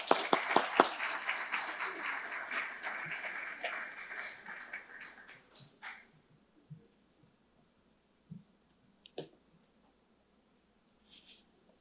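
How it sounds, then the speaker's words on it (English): Audience applause for a speaker at an afternoon session of an ocean research and innovation alliance conference, a dense round of clapping for about six seconds that tapers off, followed by scattered faint claps and small noises. "Please, a good round of applause to Roberto Pinho"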